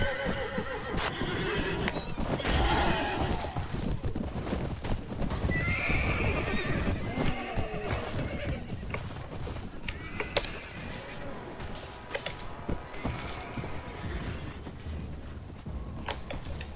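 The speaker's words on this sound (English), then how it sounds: "Oh, horse." Horses in the game Mount & Blade: Warband neigh and whinny repeatedly over constant clopping hooves and creaking tack, a busy close mix that continues without a break, with faint voices now and then.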